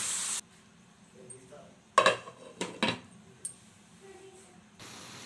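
Cauliflower being stirred into a spice tempering in a pot, then covered with a lid: a brief sizzle, then sharp metallic clanks and scrapes of a spoon against the pot, ending with a short burst of frying.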